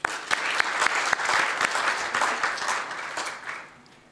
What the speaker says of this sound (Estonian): aga aplaus talle